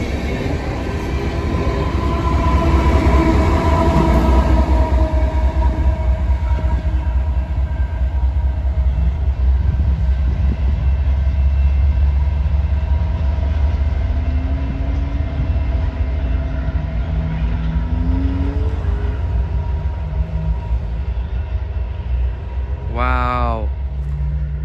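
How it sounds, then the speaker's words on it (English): Coal train passing with a long, heavy, loud rumble and rhythmic clatter of wagons for the whole stretch, with faint squealing wheels and a brief high squeal near the end. "Finally, we got a coal train."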